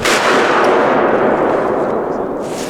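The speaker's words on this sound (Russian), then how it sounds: "До взрыва остались считанные секунды." Loud training demolition blast set off with a blasting machine, a single sustained broadband roar that holds for nearly three seconds and slowly tails off, with no voices over it.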